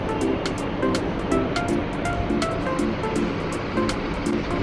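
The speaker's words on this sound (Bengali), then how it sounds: "হ্যাঁ, স্পিড বোট যাচ্ছে এদের।" A speedboat runs out on the sea off the beach with a steady motor drone over the surf, and short rhythmic slaps repeat as the hull bounces on the waves.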